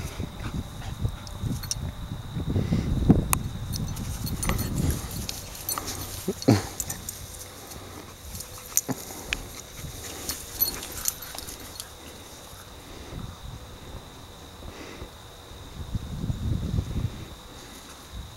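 Two dogs romp and play in a yard, whimpering and whining with scattered thumps and scuffles, sometimes close and sometimes further off, over a steady faint background buzz.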